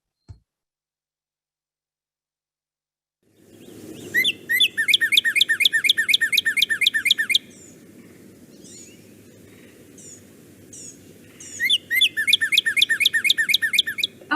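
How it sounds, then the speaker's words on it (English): A northern cardinal sings loud series of slurred, upward-swept whistles in rapid repeated bursts, two runs separated by a short pause, over faint background hiss. "I'm going to play the cardinal song, which is a series of loud,"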